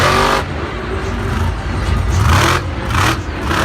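A monster truck at a Monster Jam show in Glendale, 2020, runs with a rough, sputtering engine, loud, uneven roaring and revving surges under arena noise.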